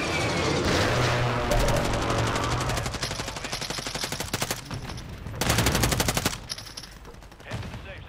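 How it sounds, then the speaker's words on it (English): Video game gunfire from another player rattles out in loud, rapid machine-gun bursts. Several sustained volleys are separated by short pauses, with a bit of distant echo and faint voices underneath. "Somebody else is shooting at that guy, it sounds like."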